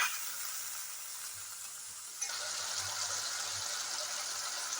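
Spice masala with turmeric and salt frying in a pan for Bengali fish head and cabbage curry, a steady close sizzle that grows louder and denser midway, with faint stirring and no talk.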